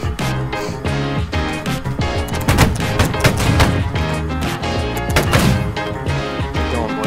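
Musket volley fire in a line battle video game, heard as dense, overlapping cracks and bangs rolling continuously across a crowded battlefield, loud and busy throughout with faint voices mixed in.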